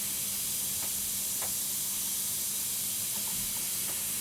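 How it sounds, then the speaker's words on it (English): Airbrush spraying paint onto leather for a Hulk artwork, a steady close hiss held throughout with a faint hum beneath. "I'm just going to round everything out now with the airbrush"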